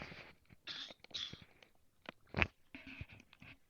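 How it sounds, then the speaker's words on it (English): A man coughs several times in quick succession, short harsh bursts close to the microphone with a throat-clearing quality, the loudest near the middle, separated by brief quiet gaps. "I can't seem to completely kick this little cough I've been having."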